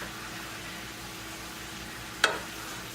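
Chicken sausage stir fry cooks in a pan with a soft, steady sizzle, quiet and even, broken once by a short sharp clack near the end.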